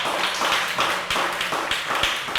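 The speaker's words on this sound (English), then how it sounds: "You can give yourself a round of applause." A graduation audience claps in a dense, steady burst of applause that carries evenly through the short stretch, with no talking.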